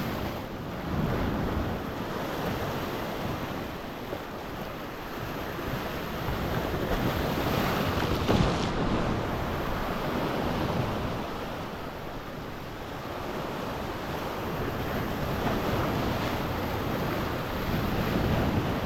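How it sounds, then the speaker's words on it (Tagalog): Calm sea surf washes steadily around a small fishing boat, a continuous soft hiss of water mixed with wind buffeting the microphone, with no voices present. "Sobrang kalma ng dagat."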